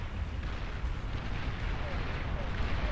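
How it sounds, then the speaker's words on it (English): Long-range artillery fire in the real-time strategy game Beyond All Reason, heard as a low, continuous rumbling of distant explosions through a large-scale battle, with a caster talking underneath. "very long-range artillery shot from the looks of it"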